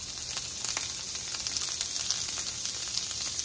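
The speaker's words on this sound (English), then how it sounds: "We're going to start with some of that same Kerrygold butter." Kerrygold butter sizzles steadily in a pan as the start of a pineapple sauce, a close, continuous bright crackle with no talking.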